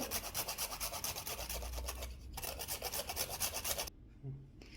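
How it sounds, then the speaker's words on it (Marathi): Nutmeg grated over a bowl of wheat and rice flour for sweet pumpkin puris, a fast rhythmic rasping of strokes close up, pausing briefly twice, fairly quiet with no talking. "जायफळ थोडं किसून टाकते"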